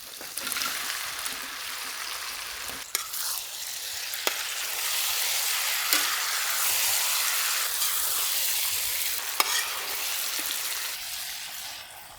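Chicken frying with onion and tomato in a pan gives a steady, close hiss of sizzling, punctuated by a few sharp clicks of stirring.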